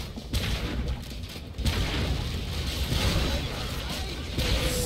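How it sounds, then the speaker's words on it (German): Heavy booming grenade explosions go off in the video game Orcs Must Die! 2, two sharp blasts followed by sustained rumbling battle noise. "Knallen mal ein paar Granaten rein."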